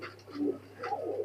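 Pakistani teddy high flyer pigeons coo softly in a loft, a few close, low, throaty calls in quick succession against a faint steady background hum.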